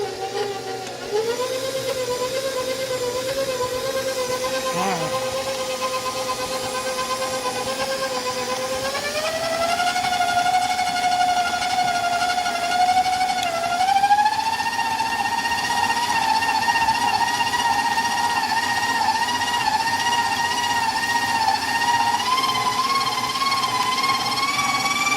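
An electric mixer fitted with a wire whisk whips frosting made with heavy cream, giving a loud, continuous motor whir that climbs in pitch twice as the speed steps up.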